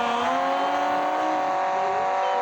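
A car engine in a parking video game drones steadily at a loud, even level, its tone sliding slightly as the virtual car speeds up, with no talk over it.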